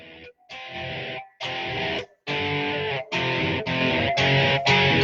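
Distorted electric guitar plays a series of sustained, gritty chords, each held about a second with short gaps between, loud and close with no voices.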